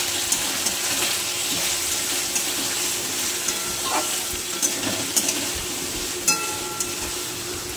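Cumin powder and salt stirred through spices frying in a pan, a steady broadband sizzle with scattered scraping clicks from the spoon, close and alone.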